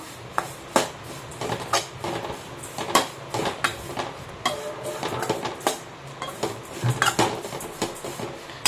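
Oats dry-roasting in a pan for oats upma, with a utensil scraping and tapping against the metal in irregular clicks and scrapes, close by and fairly quiet, with no talking.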